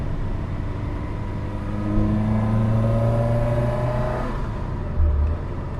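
A 1979 Fiat 127 Sport with a transverse engine and end-on gearbox drives at about 40 mph around an industrial estate, its engine note rising and droning steadily up close before easing off, with a brief low thump near the end.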